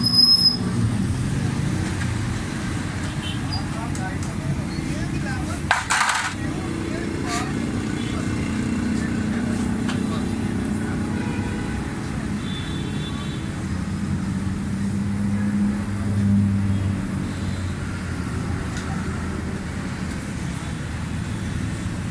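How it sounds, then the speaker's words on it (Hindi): A 2008 Suzuki Bolan Carry pickup with a misfire and fuel and distributor timing faults drones at full throttle in second gear. It gives a steady, sluggish low rumble from inside the cab, with talking over it and one brief knock midway. "दूसरे गियर में फुल पेडल दबा कर है, गाड़ी बिल्कुल पिकअप नहीं ले रही।"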